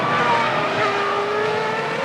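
Jaguar Formula 1 car from the 2002 season racing in the midfield, a loud, continuous high-pitched engine whine with shifting pitch, dense and steady throughout.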